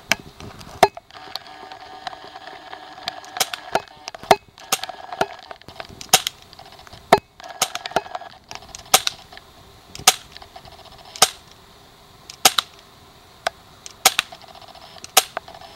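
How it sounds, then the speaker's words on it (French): A Colt 1911 CO2 airsoft pistol with fixed slide fired at a target 10 metres away: sharp, close, snappy pops spaced a second or so apart, about ten shots in a steady sequence with faint hum between. "Donc voilà pour le test de tir à 10 mètres."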